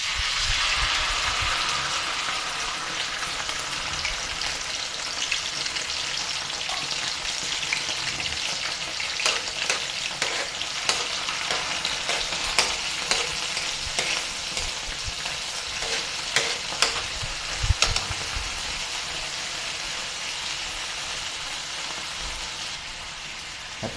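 Sardines fry with onions in a pan, giving a continuous close sizzle and crackle with occasional stirring scrapes and bursts of spatter throughout.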